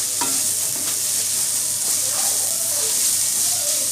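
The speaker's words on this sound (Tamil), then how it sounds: "இப்போ கரம் மசாலா போட்டு நல்லா மிக்ஸ் பண்ணி விட்டுக்கோங்க" Garam masala being stirred into a chilli bread mixture frying in a pan, with a steady sizzle and hiss and a few scraping stirs of a spoon throughout, close and fairly loud, no voices.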